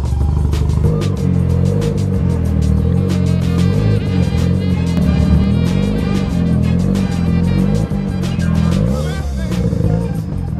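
A Mazda RX-7 rotary engine runs continuously while warming up after a hard start, loud, close, and slightly uneven, with a lumpy idle and occasional revs.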